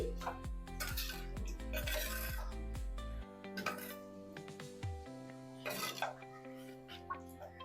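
Khichuri with added water stirred in a pot, a spoon scraping and clinking against the metal in quick repeated strokes, then slower scrapes with a low hum behind, close and moderate.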